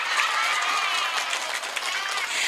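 Steady applause from a large crowd at an Indonesian religious gathering, a dense continuous patter of many hands clapping at fairly even loudness throughout, with no speech over it.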